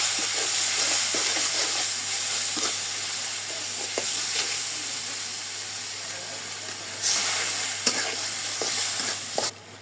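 Chicken seasoned with ginger, garlic, chili powder, turmeric and salt is sautéed in a pan, giving a steady sizzle and hiss with occasional soft stirring knocks and scrapes, close and without talk.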